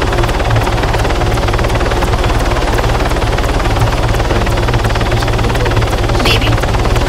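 Helicopter rotor and engine noise from a chopper in the video game Arma 3, a loud, steady, continuous drone with a rhythmic rotor chop throughout, with no pauses or breaks.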